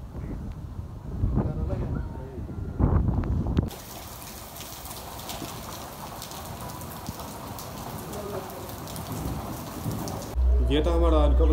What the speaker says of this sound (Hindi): काफी ज्यादा ये देखें आगे बारिश हो रही है ऊपर भी पड़ रही है बारिश